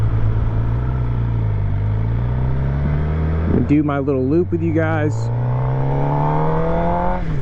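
A 2023 Suzuki GSX-R750 with stainless 4-into-1 headers and a titanium muffler idles with a steady low drone, engine pitch rising and falling gently, while someone talks close by partway through.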